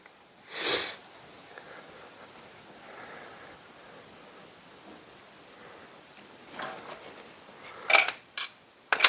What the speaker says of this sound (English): Still got the sniffles a little bit too.